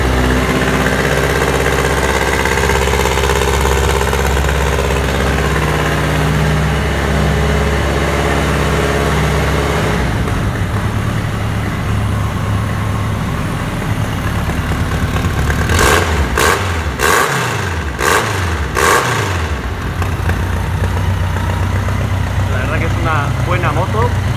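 A BMW motorcycle engine, an R75 or K100, starts with the choke pulled and settles into a loud, steady idle with a close mechanical clatter and a few brief revs near the end.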